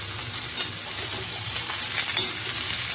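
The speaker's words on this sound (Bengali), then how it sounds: "এবার এটা নেড়ে চেড়ে ভাজা করতে হবে। আলু আর বেগুন ভালো করে ভাজা করে নেব" Potatoes and brinjal fry in very hot oil, a steady close sizzle with light scraping as they are stirred, continuous with no talking.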